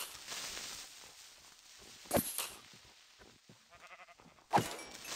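A sheep in a Minecraft-style survival game bleats twice, short sharp cries a couple of seconds apart, amid faint ambient rustle and soft footsteps.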